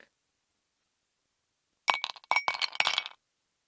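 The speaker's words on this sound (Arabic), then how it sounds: "ضفت مكعبات التلج" Ice cubes drop into a glass for a mango mojito, giving a short burst of several bright, close clinks and clatters that settle after about a second, with silence before them.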